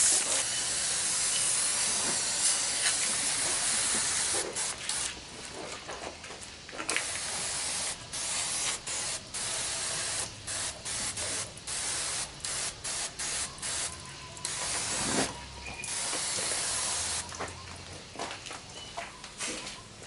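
Repeated hissing sprays of water misting a bonsai before moss is laid, a long run of close bursts, some sustained and some quick, with no talk.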